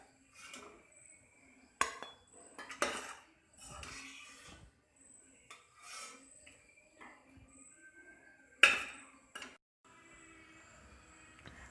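A metal utensil scrapes and clinks against a pot while cooked chicken pieces are lifted out of soup simmered on a low flame, giving scattered sharp knocks and rattles separated by quiet gaps.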